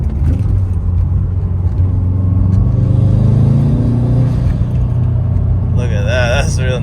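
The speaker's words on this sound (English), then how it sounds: "I'm at fourth. I'm gonna try to do a downshift here." A manual car with a short shifter cruising in fourth gear, its engine rumbling steadily up close, then rising in a rev as it downshifts; a voice talks over the end.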